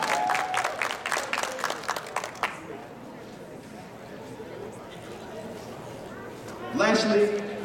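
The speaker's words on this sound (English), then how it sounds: "Please stand up and get a round of applause here." A short round of applause from an audience at an Operation Rising Star event, dense clapping for about two and a half seconds that stops abruptly, followed by quiet room tone and a voice speaking near the end.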